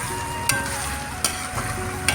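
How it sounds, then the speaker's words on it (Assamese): Meat, potatoes and tomato with ginger-garlic paste being stirred as they fry in a pan: a steady close sizzle with three sharp spatula scrapes spaced across it, and no voices. "অলপ সময় মই এইদৰে লৰাই আছিলোঁ যাতে সকলোখিনি ভালদৰে মিলি যায়।"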